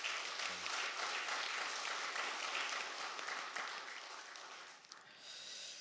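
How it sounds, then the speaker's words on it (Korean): A church congregation gathered for its 12th anniversary and dedication service claps together, dense even applause that fades slightly toward the end, with no talking. "먼저 하나님께 우리 영광의 박수로 올려드렸으면 좋겠습니다."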